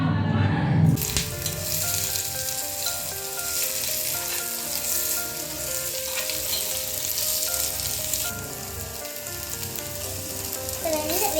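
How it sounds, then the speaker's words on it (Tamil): Chopped onions sizzle steadily in hot oil for an egg gravy, a dense, close crackling hiss that continues without a break, with occasional faint scrapes of stirring. "வெங்காயம் வந்து ப்ரௌன் கலராக ஆகிட்டோம் அது வரை நம்ம வந்து நல்லா பண்ணிகிட்டே இருக்கணும்"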